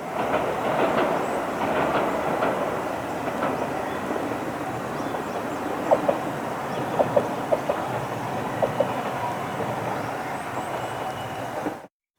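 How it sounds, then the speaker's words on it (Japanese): The Ashizuri No. 1 limited express train bound for Nakamura rumbles past at a distance in Sakawa, Kochi, Japan, a steady roar with clicking wheels over rail joints that lasts most of the time before stopping abruptly. "また列車が来ました。 中村行きの特急足摺り1号でした。"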